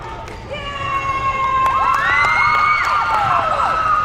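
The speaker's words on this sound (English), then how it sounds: "Your Storm freshmen sitting on the bench, cheering on their JV. Getting noisy with it." High school freshmen on the bench cheer loudly at a JV volleyball game, a mass of high-pitched shouts and whoops that swells and holds in a gym.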